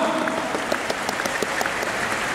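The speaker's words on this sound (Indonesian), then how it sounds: "Give yourself a round of applause." An audience at a bilingual leadership talk breaks into steady applause, a continuous even patter of many hands heard alone without voices.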